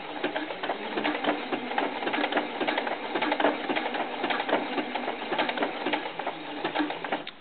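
A sewing machine stitches the neckline of a knit doll tank top, its rapid needle chatter running steadily and close throughout.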